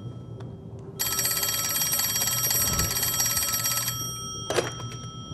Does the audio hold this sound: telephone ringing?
yes